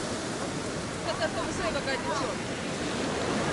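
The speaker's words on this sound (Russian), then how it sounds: "Ну что, сегодня волна сильная, да?" Strong sea waves roll in at a beach in Batumi, Georgia, a close, continuous surf roar with wind buffeting the microphone and brief voices from bathers mixed in.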